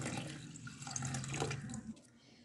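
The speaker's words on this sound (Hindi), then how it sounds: "जिसमें मैंने बॉईल किया था वेजिटेबल्स, वही वाला पानी मैं अब इसमें ऐड कर रही" Vegetable boiling water being poured into a pot of carrot tomato soup, a short soft splashing pour heard close up and alone.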